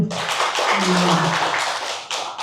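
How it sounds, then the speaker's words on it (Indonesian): Seminar participants at a teacher orientation event in Surakarta clap together in a loud, continuous burst, while voices sound through the clapping. "Tepuk tangan dulu Bapak Ibu."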